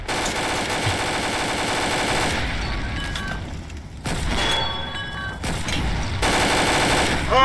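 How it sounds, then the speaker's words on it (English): A machine gun fires in long, dense, loud bursts of rapid shots, with a couple of brief breaks and metallic pings between volleys. "Keep firing and don't stop!"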